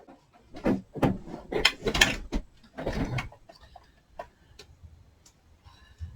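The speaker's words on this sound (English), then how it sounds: "go run this through the machine again" Embossing machine cranking a colored embossing folder through during a card-making craft session, giving a series of close, soft clicking and ratcheting mechanical sounds in uneven bursts that taper off into lighter ticks.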